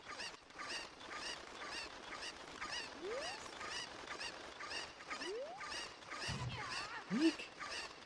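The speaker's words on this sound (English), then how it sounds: "I hear cuckoos." Cuccos, the chickens of Ocarina of Time, in a rapid rhythmic stream of quiet clucks and squawks, joined by a few rising synthetic chirps and a faint voice.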